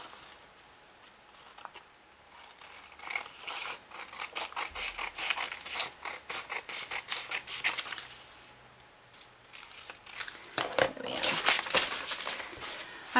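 Scissors snip around the thick black line of a paper doll clothes pattern for an 18-inch doll nightie, giving quick close crisp cuts in an irregular steady run with brief pauses.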